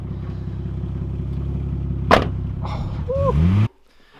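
An upgraded Nissan Skyline R32 engine idles with a low, steady rumble and a sharp clack midway. The sound swells briefly near the end, then cuts off suddenly.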